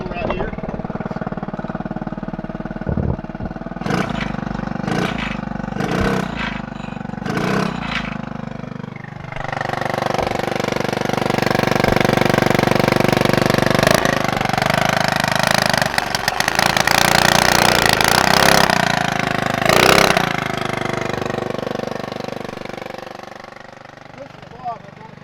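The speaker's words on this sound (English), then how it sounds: "Start giving it some gas with the throttle cable right here." An old engine on a revived project vehicle, revved by pulling the throttle cable, then settling to a steady idle; the engine runs continuously and loud, with a few sharp bursts early on and a swelling rev in the middle.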